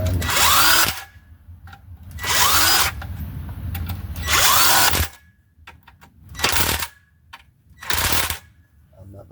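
A power tool with a long 5/8 socket tightens engine mount bolts on a 2009 Dodge Journey 3.5L AWD, giving five loud, close whirring bursts of about a second each, separated by short pauses.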